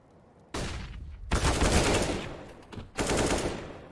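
Bursts of automatic gunfire in Counter-Strike: Global Offensive during an esports match, several loud rapid volleys separated by short gaps, with no commentary audible.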